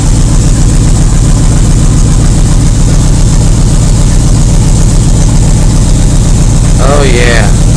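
A 1980 Yamaha XS1100 motorcycle engine idles steadily and loudly up close throughout, a continuous even rumble, with a brief voice near the end.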